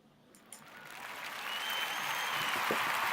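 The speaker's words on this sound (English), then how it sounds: "Ladies get a special applause." Applause from partygoers at a pre-birthday bash, starting soft and swelling into a steady, moderately loud patter of many hands clapping.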